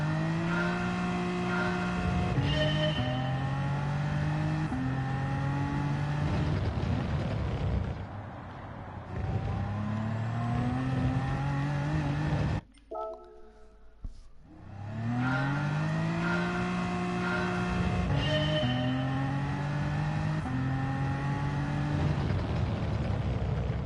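A BMW M4 race car engine in Gran Turismo 7 revs hard and loud, climbing through repeated upshifts with rising pitch sweeps, then briefly cutting out before roaring back up through the gears.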